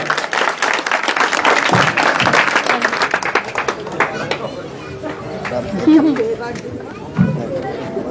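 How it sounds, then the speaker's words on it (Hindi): Applause and crowd chatter from a large outdoor Congress political rally audience in Tibba Danasher, steady and loud throughout, with mixed voices and movement noise underneath. "जोरदार तालियों से इनका स्वागत।"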